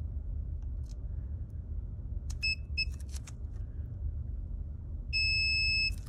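A multimeter set to continuity mode gives short beeps and then a longer steady tone as probes touch connector pins on a liquid-damaged MacBook Pro A1278 logic board, heard over low background hum with clicks between beeps.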